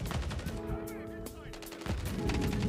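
Rapid automatic gunfire in Modern Warfare 3 multiplayer, with dense bursts of shots and a short tonal effect in between, heard close and loud under a busy game mix.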